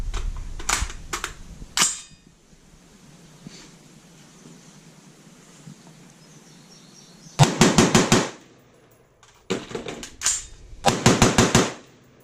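An AR-15 rifle fires in quick bursts: a few separate shots at the start, then two dense volleys of rapid cracks later on, loud and close, with quiet gaps between them.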